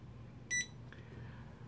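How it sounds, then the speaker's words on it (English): A radio transmitter being set up with a FrSky D4R-II receiver gives a single short, clear electronic beep, followed by a fainter tone, over a low background hum. "Okay, you hear the beep."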